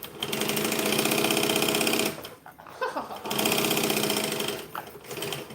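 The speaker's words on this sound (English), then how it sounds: "I'm going to top stitch this because I think it'd be pretty." A sewing machine runs steadily, top stitching a lining of bonded nylon fabric. It plays in two long, close, even bursts with a short pause between them and a brief restart at the end.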